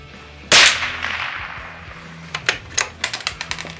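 A Christensen Arms Ranger carbon-fibre rifle fires one Norma subsonic round at a 30-yard range, a single sharp close crack followed by a decaying tail, then a string of lighter clicks and taps from handling the gun.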